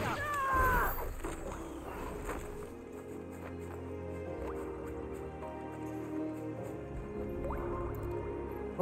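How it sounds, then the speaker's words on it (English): Water drips in a Final Fantasy XVI game scene, scattered soft plinks and liquid drops over a quiet ambient hum, faint and irregular with ringing tones. "it sounds like water dripping"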